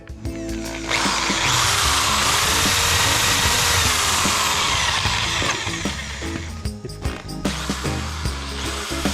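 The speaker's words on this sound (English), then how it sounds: "We got a 5/8 drill bit. All right, I'm just gonna go through these threads a little bit." A power drill with a 5/8 bit runs loud and steady for several seconds, its whine grinding through metal threads on a 2nd Gen Cummins, then spins down with a few short bursts at the end.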